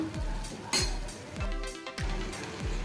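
Ginger-garlic paste and onions are stirred in a pan for chicken curry: a spoon scrapes and clinks against the metal in a steady rhythm of several strokes, close and fairly quiet, with soft sizzling underneath.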